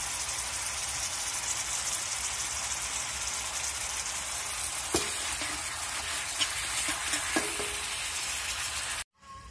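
Israeli stevia shoots stir-frying in a pan with a little drinking water, a steady close sizzle with a few sharp spatula scrapes, cutting off abruptly near the end.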